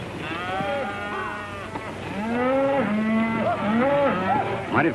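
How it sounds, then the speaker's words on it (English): Several cattle moo in overlapping, drawn-out calls, close and fairly loud, over a steady outdoor background. "Mighty fine cattle, boss."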